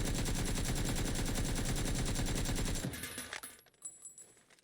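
Rapid automatic weapon fire in the video game PUBG on console, a dense fast stream of loud shots lasting about three seconds before stopping, followed by fading echoes and faint scattered sounds.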